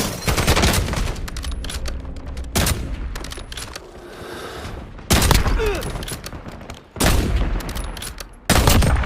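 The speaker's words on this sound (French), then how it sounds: "Je me fais tirer dessus!" Gunfire hitting the player in the Warzone video game, long loud sustained bursts of rapid shots broken by brief lulls, dense and close.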